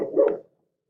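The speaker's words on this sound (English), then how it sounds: "Sorry, that's my dog." A dog gives a single short, muffled bark-like sound at close range, lasting under half a second and followed by silence.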